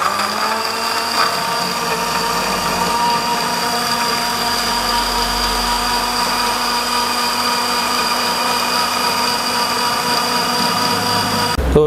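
A kitchen blender grinds cooked catfish with garlic and spices in a steady, continuous high whirring drone, loud and close, running without pause and without talk.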